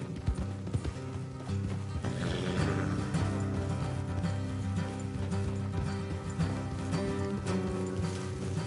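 Horse hooves clop at a steady trot beneath a continuous layer of music in Red Dead Redemption 2, moderately loud and unbroken throughout.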